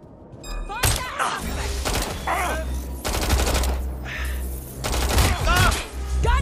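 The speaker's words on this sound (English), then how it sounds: "Gunfire." Rapid bursts of automatic gunfire and single shots ring out in Watch Dogs Legion combat, loud and close over a steady low rumble, with several separate volleys and thuds.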